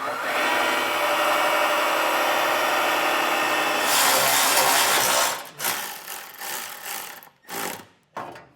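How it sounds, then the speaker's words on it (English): A power drill bores a small pilot hole into a vehicle while installing a 7-way trailer brake controller upgrade kit. A steady, loud whir runs for about five seconds, then several shorter bursts of drilling follow, close and with no speech. "I'm going to put a small pilot hole here."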